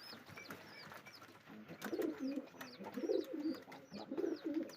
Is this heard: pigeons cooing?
yes